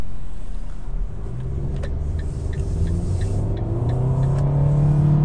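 Fiat Strada Volcano pickup with 1.3-litre Firefly engine and CVT gearbox accelerates steadily, a rising engine drone under road rumble heard from inside the cab, smooth and continuous without gear shifts.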